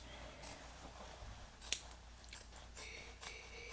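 Duckbill scissors grading a fabric seam allowance on a summer top make a few quiet snips, with one sharp distinct cut standing out near the middle against a faint background.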